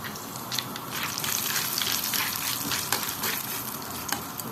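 Garlic and dried coriander frying in a pan, a steady crackling sizzle with scattered sharp pops, close and continuous with no talking.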